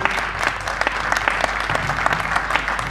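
An audience at an annual mushaira poetry gathering of the United Pak Community in Portsmouth claps for Abid Ali Baig's book, a steady, dense round of applause that fills the room throughout.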